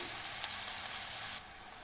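Onions gently sautéing in a pan while an egg and drumstick-leaf stir-fry is being made, a steady soft sizzle with one brief tap, dropping quieter toward the end, no voices.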